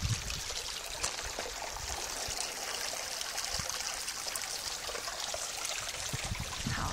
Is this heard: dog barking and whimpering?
no